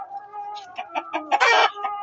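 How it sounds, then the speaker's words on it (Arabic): Several chickens in a backyard poultry coop cluck in short, rapid bursts close by, with one louder squawk near the end. "وديت فراخ اهي"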